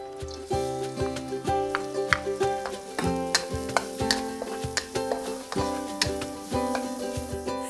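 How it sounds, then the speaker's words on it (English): Garlic sizzles in a little oil in a pan over medium heat while being stir-fried for salt-and-chilli squid. Repeated ringing metallic scrapes and clacks of the spatula against the pan sound close and loud. "Stir fry the garlic until it starts to turn into golden brown color."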